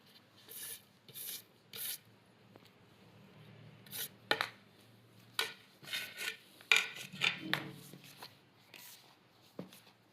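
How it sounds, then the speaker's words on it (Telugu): Chilli powder, salt and curry leaves being mixed by hand in a bowl for crispy spicy papads, quiet rubbing and scraping in short irregular bursts with soft clinks against the dish. "ఇలా అంతా కారం, ఉప్పు ఇవన్నీ కలిసేలాగా బాగా కలుపుకుందాము."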